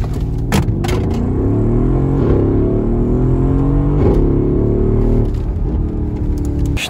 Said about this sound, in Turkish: Arkadaşlar bir deneme turu atalım Muhammed abiyle birlikte.